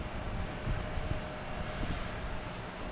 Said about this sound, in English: Life Flight of Maine coming in.